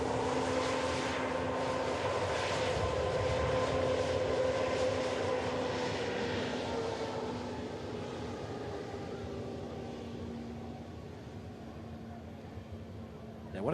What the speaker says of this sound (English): Ryanair 737 MAX just vacating